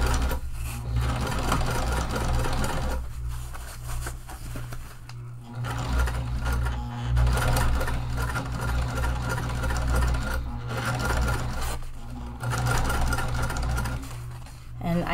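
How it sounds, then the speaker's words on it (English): A sewing machine top stitches a tote bag with double-sided tape beneath the fabric, running in a steady close mechanical whir with brief pauses and restarts throughout. "I am just going to start sewing"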